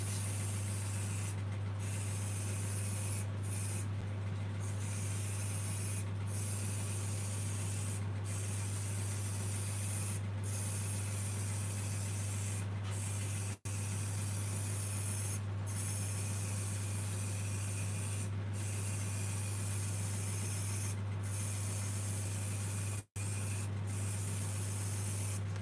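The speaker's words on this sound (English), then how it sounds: "do you always spray with the grain?" Steady continuous spray hiss, applied with the grain on a surface being coloured, running unbroken at close range with only two momentary gaps and a constant low hum beneath.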